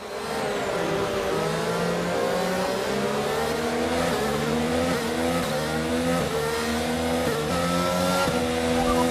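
A Formula 1 car's engine in F1 22, racing at Miami, drones loud and close. Its pitch steps repeatedly through gear changes with slight wavering, and a faint hint of tyre squeal comes through without any voices.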